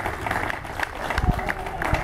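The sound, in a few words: audience applauding padel final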